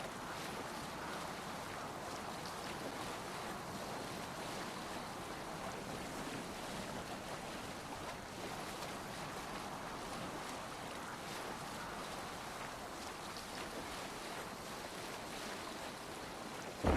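A Viking longship under sail in Assassin's Creed Valhalla, with a steady wash of water and wind rushing along the hull. The sound is faint and continuous and holds the same level throughout.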